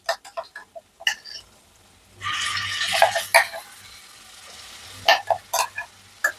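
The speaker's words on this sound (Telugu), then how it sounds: "సో ఆనియన్స్ అయితే వేగిపోయాయి. నెక్స్ట్ కొంచెం ఆనియన్ పేస్ట్ అది కూడా వేసుకుందాము." Onion paste added to fried onions crackles in a pan and rises to a brief burst of sizzling, surrounded by sharp clicks and scrapes of a spoon stirring, close by.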